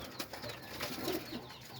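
Pigeons coo softly in a loft or coop, low murmuring calls overlapping through steady background noise, with a faint flutter of wings.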